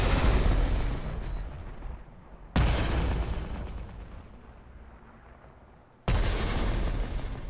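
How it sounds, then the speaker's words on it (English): Explosions of green ball projectiles in the video game ULTRAKILL, three loud booming blasts, each decaying into a long rumbling tail before the next one hits. "I guess it depends on how strong this explosive is."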